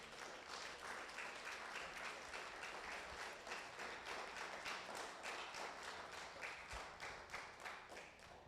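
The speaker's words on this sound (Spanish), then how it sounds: "Si ese aplauso es para Dios, déselo más fuerte." A church congregation claps during a sermon, steady rhythmic applause heard from a distance, quiet and fairly even throughout.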